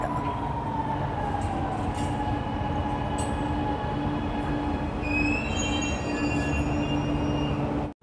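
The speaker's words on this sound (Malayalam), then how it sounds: "നമുക്ക് വേണ്ട മെട്രോ വന്നിരിക്കാം." Chennai metro train pulling into a station, with a steady loud rumble and rising wheel squeal and high whine throughout, ending abruptly.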